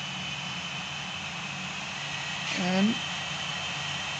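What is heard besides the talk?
MiG-19 jet engine at full throttle in the video game Gunship III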